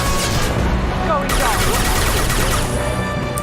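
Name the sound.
gunfire in the video game Mass Effect 2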